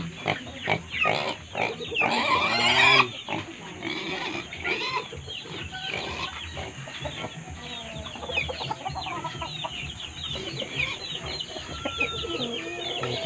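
A shamo rooster and other backyard gamefowl cluck and squawk close by, with a burst of louder agitated calls early on, then scattered clucks continuing.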